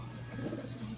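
Pigeon cooing close by, a brief low, soft throaty coo over a steady background hum.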